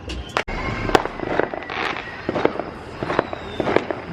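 Fourth of July fireworks popping and crackling continuously at a distance, with repeated sharp bangs and sizzling bursts scattered across the scene.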